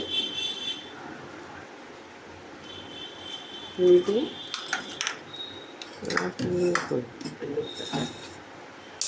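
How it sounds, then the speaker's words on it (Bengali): Eggs cracked one at a time into a box-shaped container for a steamed egg dish, giving a few separate sharp taps and clinks around the middle of the clip, with soft kitchen handling noise in between. "এক এক করে ডিমগুলো ফাটিয়ে এর মধ্যে দিচ্ছি।"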